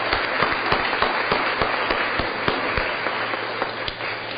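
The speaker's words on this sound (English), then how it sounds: "Let's give them a round of applause" Steady applause from the room at a Board of Aldermen meeting for the teachers and administrators, continuous and moderately loud with faint individual claps standing out.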